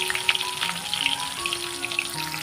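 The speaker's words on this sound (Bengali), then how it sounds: "লাউ যেটা ছিল আছে না চামড়া, ওটা দিয়ে ভাজি করতেছি" Bottle gourd skin fries in a pan with a soft, steady sizzle and crackle under tonal background music.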